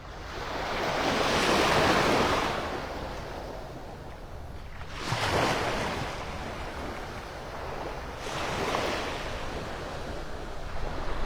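Ocean surf on a beach in North Naples, Florida, with the tide coming in and a light breeze: broad rolling waves swell and break about three times, with wind noise buffeting the microphone.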